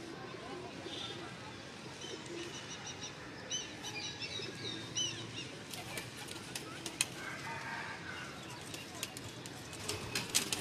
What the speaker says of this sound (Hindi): देखें आप माशाल्लाह कबूतर